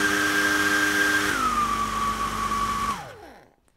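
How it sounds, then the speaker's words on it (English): A hair dryer blows with a steady high whine and airy rush, then drops to a lower speed partway through before switching off and winding down into silence, close and loud with no voices. "And we have our hairdryer here."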